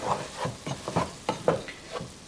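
Ground meat browning for chili in a pot sizzles steadily under a run of rhythmic stirring scrapes, close and moderately loud, with no talking.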